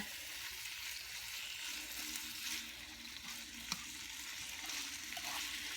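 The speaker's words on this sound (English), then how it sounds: "I just want this to brown up on all sides." Steak browns in a frying pan with a continuous crackling sizzle, loud and close, with occasional sharper pops and faint stirring.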